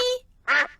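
In a Peppa Pig cartoon about birdwatching, a character's voice imitates a duck with a nasal quack, a short pause, then a second, louder drawn-out quack.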